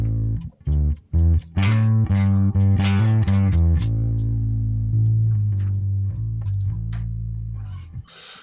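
A distorted electric bass, run through an Axe-Fx III with an SVT amp preset, is plucked with the fingers, a run of quick notes followed by a long sustained tone that slowly fades.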